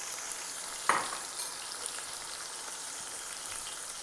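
Peas frying in a pan with spices, garlic ginger paste and green chilies for matar pulao: a steady, fairly quiet oil hiss with a couple of brief sharper pops early on.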